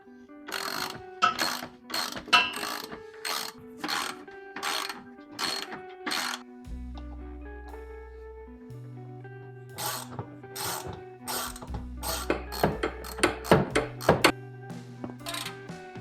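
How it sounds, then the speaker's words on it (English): Hand ratchet backing out 10 mm bolts from the lower front bumper of a 2008 Toyota FJ Cruiser, rapid clicking bursts repeating close up, with a metallic ringing hum through the middle and no talk. "Next up, you gotta remove these bolts at the bottom"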